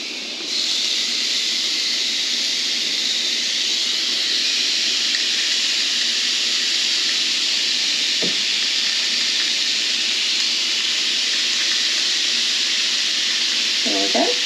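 Hamburger patties sizzle on a very hot cast iron griddle over a gas flame, making a loud, unbroken hiss throughout, with a couple of faint clicks near the middle and the end.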